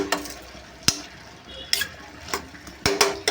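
Potato pieces for aloo fry being stirred in a pan, with a steady low sizzle under several sharp scraping strokes of a spatula at irregular intervals.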